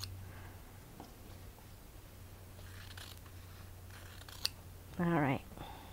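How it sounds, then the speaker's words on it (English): A rotary cutter slices through quilting fabric along a ruler for a baseball quilt block. The cutting strokes are quiet and crisp, with a couple of faint clicks, followed near the end by a brief louder tonal sound. "You could just take your ruler and mark the 1/4 inch and cut it with your rotary cutter."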